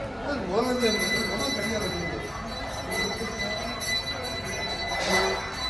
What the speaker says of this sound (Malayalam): പൂജയുടെ മണിമുഴക്കം കേൾക്കാമല്ലോ.